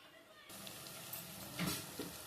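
Okra curry with spices sizzles and fries in a pan, a quiet start giving way to a steady close hiss with a few brief louder crackles.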